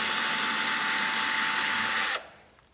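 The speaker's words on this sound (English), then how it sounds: "So I'm going to go ahead and remove the screw on this side." A power tool whirs steadily for about two seconds while backing a screw out of a Yamaha R1 tank cover, close and loud, then cuts off abruptly into quiet.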